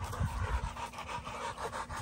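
Chopper, a dog at a kennel, pants close by in quick, rhythmic huffs, a steady run of short breaths with no other sounds.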